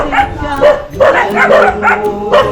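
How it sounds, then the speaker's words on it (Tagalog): A dog barks angrily in rapid, loud, close yips and bow-wows, a string of repeated barks with whimpering tones mixed in, and voices are faintly present underneath. "Nagalit yung aso."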